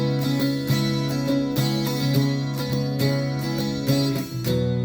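An electric guitar plays a steady run of strummed chord changes, each chord ringing into the next in an even rhythm, clear and close with no voices.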